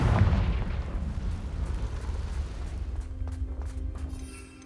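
Confringo fire spell explosion in the Hogwarts Legacy video game: a loud, booming blast right at the start that rolls into a long, rumbling decay and fades over several seconds.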